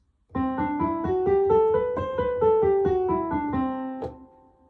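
A Lydian mode scale rises note by note in a clean, steady sequence with a raised fourth, then descends back, each tone distinct and sustained, played alone without talk and ending with a final held note.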